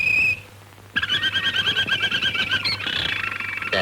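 A pet canary sings a rapid, continuous warbling trill of bright chirps, close and clear, after a short opening note and a brief pause.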